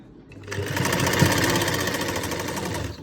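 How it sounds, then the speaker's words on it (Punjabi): Sewing machine stitching a bias strip onto a garment's back neck, starting after a brief pause and running as a fast, steady, close mechanical whir for a few seconds before easing off. "ਆਪਾਂ ਬਿਲਕੁਲ ਇੱਕ ਇੱਕ ਪੈਰ ਦੀ ਨਾਲ ਨਾਲ ਸਲਾਈ ਲਾਉਣੀ ਹੈਗੀ"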